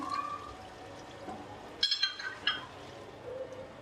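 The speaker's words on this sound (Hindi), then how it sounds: "अब इसमें 1 प्याली पानी डाल देंगे हम।" Water is poured from a cup into a biryani pot holding half-boiled potatoes and yogurt, with a short splashing burst and a few clinks partway through and quieter kitchen noise around it.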